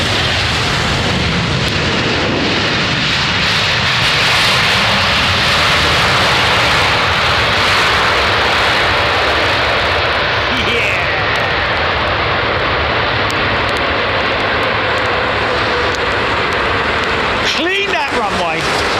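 Jet airliners landing on runway 27R at London Heathrow, a loud, continuous roar close by that swells and sweeps through the whole stretch, with rushing wind noise throughout.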